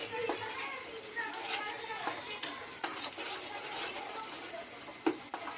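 Garam masala and coriander powder stirred into a cashew curry in a pan, close scraping spoon strokes over a light sizzle, with someone talking throughout.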